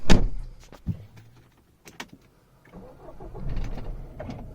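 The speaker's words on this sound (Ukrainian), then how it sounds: "коли ми заводимо машину" A Peugeot 3008 in top trim starts up: a sharp opening burst, then a few clicks and short mechanical noises, then the engine settles into a low, close running hum.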